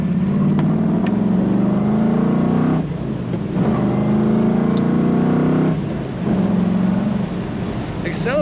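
A 1967 Chevrolet Camaro RS convertible engine drones and revs up through gears, with brief dips between shifts, heard steadily from inside or near the car.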